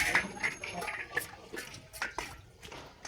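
An egg is stirred as it boils in water in a wok, with a utensil making light metallic clinks and taps against the pan over a soft watery bubbling.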